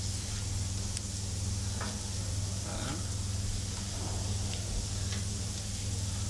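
Onions mixed with other ingredients in a pan sizzle softly and evenly, with a few faint stirring scrapes and clinks over a low kitchen hum.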